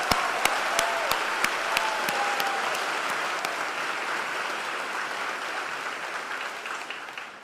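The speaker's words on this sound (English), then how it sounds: "allowing a moment of applause for the class of 2025 reaching this point" Crowd at an upper school prize day ceremony applauding the graduating class of 2025, sustained clapping with a few sharp louder claps early on, gradually fading toward the end.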